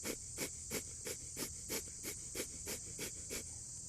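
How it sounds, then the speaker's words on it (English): Kapalabhati yoga breathing: short, sharp, forceful exhales through the nose, about a dozen quick puffs in an even, steady rhythm, close and fairly quiet, with no talking. "Kapalabhati breath, so short, sharp exhales out of your nose"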